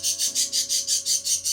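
A pet bird calls indoors with a steady, rhythmic chirping, about eight evenly spaced raspy pulses, close and fairly loud over a low background hum.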